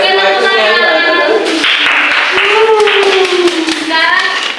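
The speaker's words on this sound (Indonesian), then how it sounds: "Oke, tepuk tangan." Children in a classroom clap their hands together in a short burst of fast, sharp claps, loud and close, amid a teacher's speech and children's voices.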